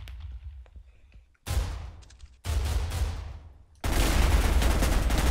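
Loud, booming sniper rifle shots ring out in the Minecraft Minestrike game, each blast cutting in sharply with a long echoing tail, building to a sustained roar of fire at the end.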